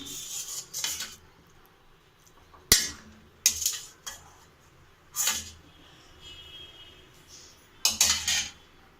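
Cooked shark fish pieces clatter into a wide metal vessel for cooling, several separate metallic clanks and scrapes with quiet pauses between them, close by and without talk.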